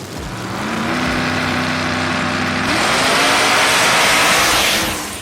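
A Camaro and a purple Dodge Charger launch in a drag race, engines roaring loud and close, with a rising gear-shifted whine, a brief shift break midway, then a sustained full-throttle howl that fades at the end.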